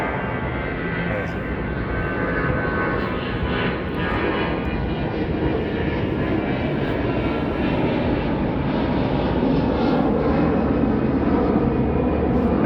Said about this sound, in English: See this plane go.